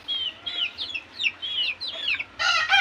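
A chicken pecking at its feed gives a rapid run of short, high clucks and chirps up close, ending in a louder, harsher squawk.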